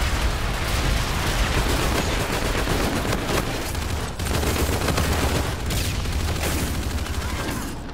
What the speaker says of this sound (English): Oh, this is a shotgun